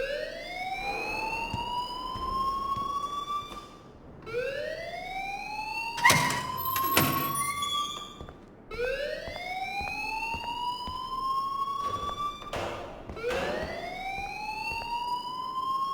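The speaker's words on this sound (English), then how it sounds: "please turn off that alarm since that's your job" A fire alarm rings in the Life is Strange video game, its loud rising siren sweeps repeating every few seconds, each whoop climbing in pitch, with a brief burst of harsh noise in the middle and no talking.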